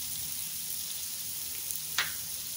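Minced meat and green chilies frying on a tawa for Lahori qeema, a steady close sizzle with a single sharp spatula scrape near the end.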